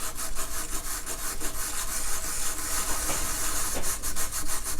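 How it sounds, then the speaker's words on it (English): Rusty, crusty part from an STC farm radio being scrubbed by hand: close, continuous rapid back-and-forth rasping strokes in a steady rhythm, loud and alone. "Give it a bit of a scrub with this"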